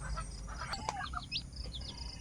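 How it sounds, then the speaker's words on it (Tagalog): Small chicks and chickens on a farm cheep and chirp in quick high calls, a few brief clucks mixed in, over a steady low outdoor rumble. "Ayan, may sisiw din"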